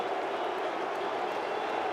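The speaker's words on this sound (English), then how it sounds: "He leaves Eden Park to the glorious cheers of this New Zealand crowd" A large New Zealand crowd at Eden Park roars and cheers steadily after a wicket falls in a 2015 World Cup cricket match between Australia and New Zealand, a dense, sustained wash of voices and clapping.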